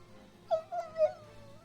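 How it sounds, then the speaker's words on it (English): Canine animals give a short, mournful howl rising and wavering in three quick swells, fairly faint and alone against quiet background. "Their bloody muzzles raise to the moonless sky and"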